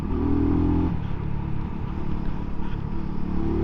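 A 2024 MUTT DRK 250 motorcycle engine revving while being ridden, a steady close rumble with rising and falling revs throughout.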